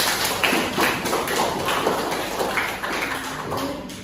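A classroom group claps together in applause, a steady dense patter of many hands at fairly close range that holds evenly throughout without any voices over it.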